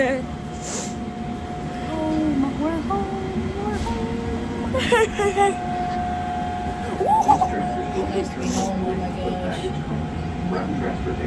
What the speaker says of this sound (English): Please stand clear of the tram doors.